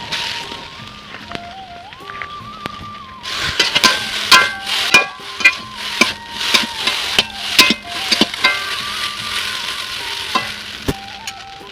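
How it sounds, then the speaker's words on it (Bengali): Chow mein noodles fry in a little oil in a wok, a close, steady sizzle broken by a run of rhythmic metal spatula scrapes and clanks as they are tossed, with no voices. "এখন আমি শুরু করবো চাউমিন ভাজা আমি চাউমিন ভাজার জন্য কড়াতে আমি হালকা করে তেল দিয়ে দিচ্ছি"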